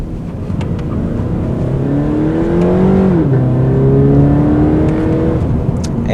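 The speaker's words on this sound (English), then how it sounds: "feature on this car is the downshift rev matching that this vehicle has, and that is just great" Engine of a 2014 Scion FR-S revving with downshift rev matching, a steady idle climbing into a rising rev, dropping sharply as the gear changes, then holding a loud, even drone with no talk.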